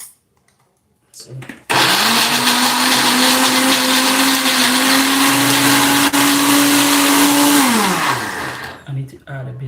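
An electric blender whirring steadily as it blends green pepper with a little water, a loud continuous motor drone lasting several seconds before winding down, with brief handling clatter around it.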